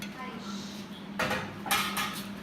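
Keto biscuit dough being mixed in a bowl, faint at first, then a few scraping, clattering strokes of a utensil against the bowl, with a voice talking in the background.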